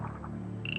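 Nile River frogs croaking together in a dense, continuous chorus, a steady low throbbing bed joined near the end by a thin high sustained tone.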